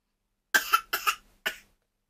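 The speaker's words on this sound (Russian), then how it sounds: "Ну, выкашляйся." A person coughs in three short, sharp bursts, two quick ones and then a third after a pause, close and clear against silence.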